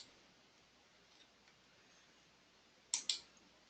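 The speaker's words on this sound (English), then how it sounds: "Let's do a little right click on here." Computer mouse right-clicked, two quick crisp clicks in close succession near the end after a quiet stretch, close to the microphone and alone.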